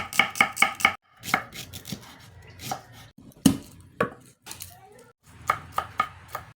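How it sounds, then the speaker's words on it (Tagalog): Onion for chicken tinola is chopped on a board with a quick burst of close knife knocks, then slower, scattered cuts and a few clinks of utensils. "Maghiwa na tayo ng mga gagamitin nating ingredients."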